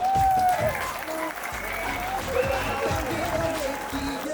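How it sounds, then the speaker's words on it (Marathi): A crowd claps steadily at a Dahi Handi festival in 2024, with dense, sustained applause filling the space and a faint voice underneath. "सगळ्यांनी जोरदार टाळ्या वाजवा"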